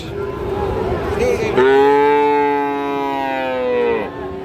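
A Friesian or crossbreed bull calf at a cattle market gives one long, loud, drawn-out moo close by, over a steady background of market murmur.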